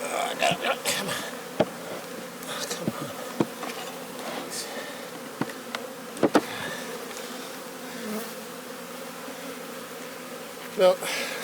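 Honeybees drone in a steady, close buzz during a late-season hive inspection in Newfoundland, as a small colony is shaken from frames, with occasional sharp knocks and scrapes of equipment and no talk.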